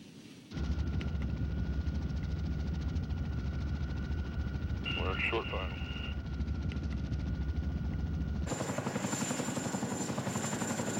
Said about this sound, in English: The pilot had to carefully maneuver the massive helicopter